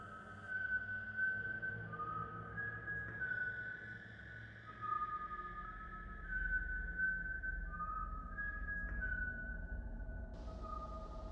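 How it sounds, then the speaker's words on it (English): Eerie, wavering whistled tones drift through a quiet night, long sustained notes sliding between pitches over a low ambient rumble, moderately close and alone without talk. "we heard the whistling."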